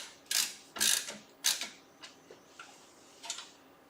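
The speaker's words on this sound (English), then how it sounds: "Not even snugging them down at all, just getting them just started in the holes." Screws are started by hand into their holes while upgrading a NAS, giving a few faint, close metallic clicks and ticks, louder at first and then lighter and sparser.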